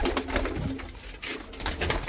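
A Panjabi Malwai pigeon coos in a few soft, repeated throaty bursts, close and fairly quiet, with no talking over it.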